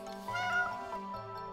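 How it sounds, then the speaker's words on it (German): A cartoonish cat meows in It Takes Two, a single drawn-out, wavering yowl over steady game music, fairly close and clear with no talk over it. "Komische Katze. Das war eine Katze?"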